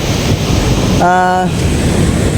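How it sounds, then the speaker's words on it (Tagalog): Ocean waves roll onto the shore at Sentinela Beach Resort in Claveria, Cagayan, making a loud, steady wash of surf throughout, with a brief tonal sound in the middle. "Nanonood na lang ng mga alon na pumupunta dito sa baybayin, no?"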